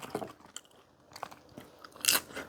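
Someone bites and chews northern Thai sai ua sausage, dense and not greasy, with a few soft, wet mouth crunches close to the mic and a sharper crisp bite near the end.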